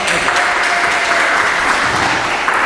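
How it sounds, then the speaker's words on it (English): An audience applauds at a 2014 pro-am racquetball tournament singles final, giving a steady, full round of clapping that fills the whole stretch without pause, loud and close. "just a huge round of applause for John and his staff and his parents for putting on this phenomenal event."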